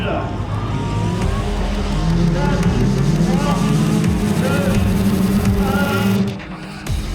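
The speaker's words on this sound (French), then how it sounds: "Nous pouvons faire rentrer les véhicules." Autocross race cars at a village motorsport show drive into the grounds, their engines revving and droning loudly and continuously close by, with a voice speaking over the noise.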